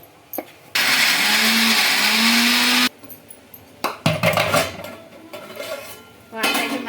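A kitchen mixer grinder whirs loudly for about two seconds while grinding ginger and green chillies with a little salt into paste, then stops, followed by clattering lid, jar and utensil knocks and another brief burst of whirring at the end.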